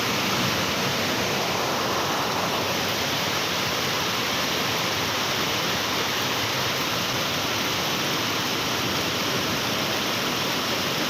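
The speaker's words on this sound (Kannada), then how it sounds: "ಧಾರಾಕಾರ ಮಳೆಯಾಗಿ ದೇವಸ್ಥಾನಕ್ಕೆ ಮಳೆ ನೀರು ನುಗ್ಗಿದೆ" Heavy downpour pours steadily as floodwater runs through a temple courtyard on the outskirts of town, a dense, unbroken roar of rain and rushing water holding at one level throughout, with no voices.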